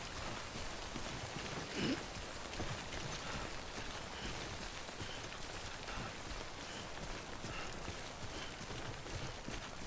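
Steady timefall rain in Death Stranding, a soft continuous hiss of falling drops that stays even and faint throughout, with no voices.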